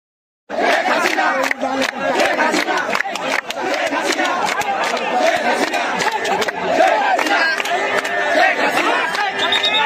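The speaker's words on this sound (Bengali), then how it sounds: "তার পাশেই আন্দোলনকারীরা স্লোগান দিচ্ছে" Protesters near soldiers on a Dhaka street during a lockdown demonstration chant slogans, a loud crowd roar of shouting voices that starts abruptly and continues densely without pause.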